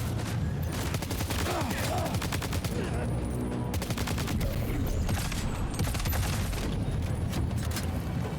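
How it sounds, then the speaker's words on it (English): Sustained gunfire in the video game Death Stranding 2, rapid bursts and single shots crackling continuously over a dense rumbling score, with a voice talking occasionally under the barrage. "Where are you shooting me from?"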